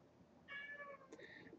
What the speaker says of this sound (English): My cat is meowing, if you aren't able to hear that